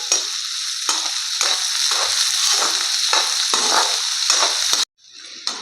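Finely chopped onions fry in a pan for an aloo baingan bharta, a steady loud sizzle broken by regular scraping stirs, until the sizzle cuts out abruptly near the end.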